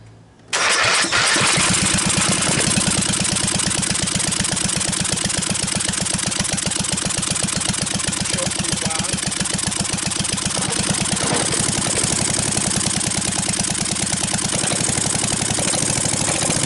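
A Briggs & Stratton 12.5 HP L-head gasoline engine, damaged by mice, sputters to life and settles into a steady, loud, fast-ticking idle that runs on without pause.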